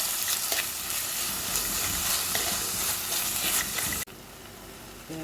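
Ginger, green chilli, shallots and curry leaves frying in coconut oil, a loud, dense, continuous sizzle up close with faint stirring scrapes, which drops sharply in level near the end.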